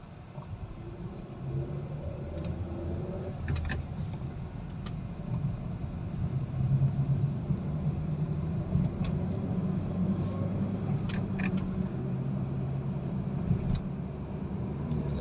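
A Hyundai Accent with its air conditioning on climbs a steep uphill road toward Tagaytay, its engine giving a steady, loud low drone with road rumble throughout and no talking.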